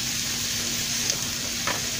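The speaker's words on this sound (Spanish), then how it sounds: "Voy a dejar que se vaya friendo muy bien." Mexican-style eggs sizzle steadily in a frying pan, a constant close hiss of frying that fills the whole clip with no talk over it.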